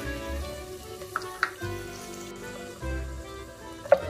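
Chopped garlic sautés in butter and olive oil in a heated pan, a quiet, steady sizzle with a few faint clicks of stirring.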